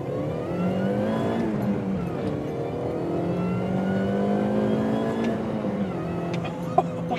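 A supercharged R53 MINI Cooper S accelerates hard with traction control off. Its engine note climbs close and loud, then drops briefly at two gear changes before rising again.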